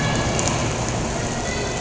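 Steady hiss of simulated rain filling an indoor room for a staged thunderstorm, a continuous dense wash with no breaks and no voices.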